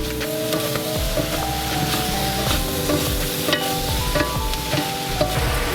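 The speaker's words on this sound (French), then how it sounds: "Il faut le remuer en permanence pour que ça ne colle pas" Chicken and courgettes being stirred in a wok, with a steady broadband sizzle and repeated scraping strokes of the utensil against the pan, close and continuous throughout.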